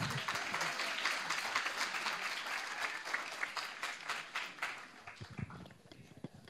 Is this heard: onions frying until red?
no